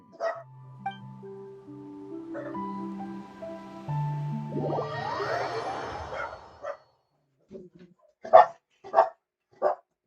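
A dog in the video game Genshin Impact gives several sharp, close barks in a quick cluster after tonal game music and chimes fade out.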